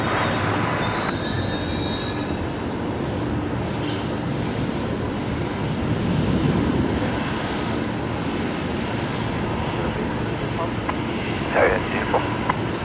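A Velocity airliner on landing at Brisbane Airport runway 19, a continuous distant roar of jet and rushing noise with a high whine, steady throughout with a brief clatter near the end.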